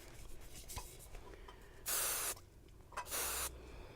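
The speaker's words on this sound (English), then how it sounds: "So I'm going to have the regular spray." Hairspray hisses from a can onto styled curls in two distinct bursts, each about half a second to a second long, close and fairly loud, with quiet handling sounds in between.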